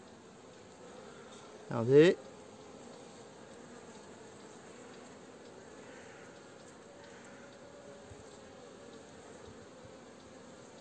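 Honeybees buzzing around a hive during a beekeeper's inspection, a steady low insect hum throughout with a brief louder close buzz or sweep early on, and a single spoken word near the start.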